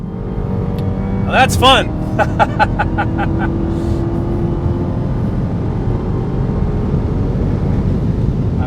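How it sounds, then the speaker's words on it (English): A 2015 Dodge Charger Hellcat at full throttle near 140 mph, heard from inside the car as a loud, steady engine and road drone that runs throughout while someone talks over it. "Foot's to the floor, and we have 140 miles an hour."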